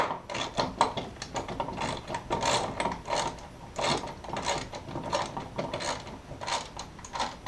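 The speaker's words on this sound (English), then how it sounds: "7/16 wrench and socket. What I do is tighten up your first one," A ratchet socket wrench clicks in quick bursts, tightening a 7/16 mounting bolt on a fish finder transducer, close and fairly quiet with an uneven rhythm.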